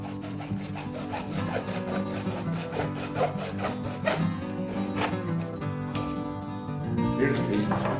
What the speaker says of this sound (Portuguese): eu vou usar a serra, tá? Bem aqui em cima, ó. E eu vou cortar até metade do cano